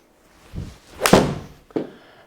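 Golf club striking a ball on an indoor launch-monitor simulator setup comparing Uneekor QED, EyeXo and GC Quad; a sharp, loud thwack stands out, followed by a softer thump, with faint knocks before and after.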